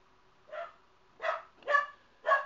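A dog barks four times indoors in separate, fairly loud bursts, the last three coming quicker together, with a faint steady hum beneath and no talking.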